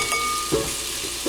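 Sausage fries in a pan with a constant crackling sizzle, broken by a couple of short scraping knocks as the links are flipped, close and fairly loud with no talking.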